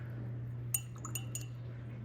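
Three light clinks of a paintbrush tapped against a glass of water during a watercolor and gouache painting session, spaced about half a second apart over a steady low hum.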